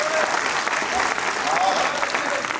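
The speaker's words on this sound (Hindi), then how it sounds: "तालियां कम बजा रहे हो आप लोग" Spectators at a Hindi kavi sammelan poetry gathering clap loudly and continuously, a thick wash of applause with voices mixed in.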